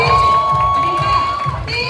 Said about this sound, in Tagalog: Pwede po ba kami makahingi ng cheer from the crowd?